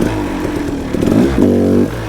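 A KTM 300 two-stroke dirt bike engine lugs and revs in a mineshaft, its loud, close, buzzy note rising and falling with a brief clattering scrape and a sustained higher rev near the end.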